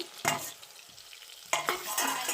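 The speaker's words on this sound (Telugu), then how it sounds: "మిక్సింగ్ చేసేసుకున్నాం బాగా మిక్సింగ్ చేసుకోవాలి ఫ్రెండ్స్" Tomatoes and garlic are stirred in a hot pan for a cucumber pickle, two bursts of sizzling and scraping separated by a quieter simmer, close and fairly soft.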